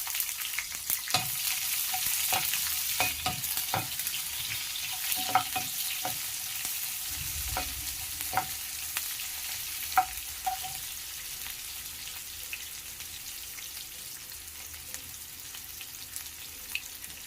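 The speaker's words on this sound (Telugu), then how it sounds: "కట్ చేసుకున్నటువంటి ఆనియన్స్ ఇందులోకి వేసుకోవాలి." Chopped onions hitting hot oil in a pan for Telugu-style okra fry, a steady close sizzle broken by repeated clinks and stirring scrapes, growing quieter toward the end; no voices.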